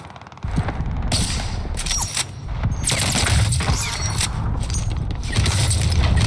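Heavy, continuous gunfire bursts from Call of Duty Warzone on Rebirth Island, loud and close, rattling in dense volleys for several seconds with scattered mechanical clicks between.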